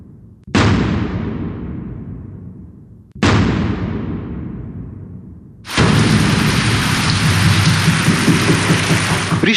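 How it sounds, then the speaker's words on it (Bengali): Heavy monsoon rain in flooded North Bengal: two loud booming crashes that slowly fade, followed by a steady, dense roar of downpour that fills the rest of the clip. "বৃষ্টি থামছে না, চিন্তায় উত্তরবঙ্গ।"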